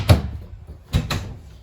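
Closet doors inside a 2021 Wildwood 40FDEN RV swing open with two quick thumps and a third knock, each a short knock with light rattle, close and fairly loud in a quiet room.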